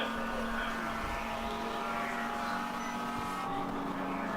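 A race car in a ChampCar endurance race sounds faint and distant as its engine drones at steady revs with a slight shift in pitch partway through.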